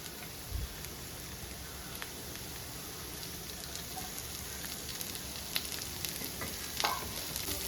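Chopped onion added to a hot pan for Kerala-style masala dosa filling sizzles and fries steadily, with a few scraping stirs and light clinks over the constant crackle.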